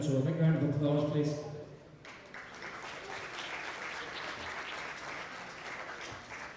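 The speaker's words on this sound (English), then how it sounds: "so a big round of applause please" Someone speaks briefly over a PA, then an outdoor crowd breaks into sustained applause at a minor division Gaelic football final, the clapping steady and moderately distant for several seconds.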